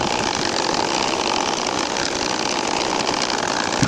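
A domestic sewing machine stitches the grid pattern of a large nakshi kantha quilt, its needle mechanism giving a steady, dense, continuous whirring clatter at close range, with no pauses and no voices.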